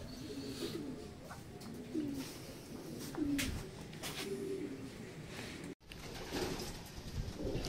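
Racing pigeons coo softly in repeated low phrases at a loft during a derby race in Catanauan, Quezon, with faint ambient noise and a brief dropout near the end.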